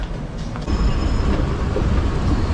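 A BTS Skytrain passes on the elevated line in Bangkok, a loud continuous rail rumble that swells abruptly partway through and holds, with no voices.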